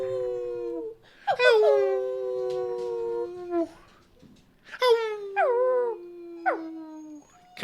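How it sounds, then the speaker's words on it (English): A pet dog named Frodo howls in long, wavering, rising-and-falling wails, two drawn-out bouts separated by a short pause, close and fairly loud indoors, with faint talk in the background. "Do you want to howl onto the podcast again?"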